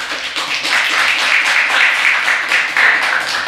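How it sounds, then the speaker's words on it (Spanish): An audience gives steady, dense applause to welcome a guest professor at a university engineering faculty, continuing evenly without pause. "para quien pido un fuerte aplauso"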